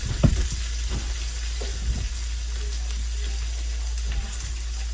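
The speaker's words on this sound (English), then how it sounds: "That's water and grease needed. It's going to pop. It's going to sizzle." Grease sizzles steadily in a frying pan, with occasional pops and clinks from stirring over a low background hum.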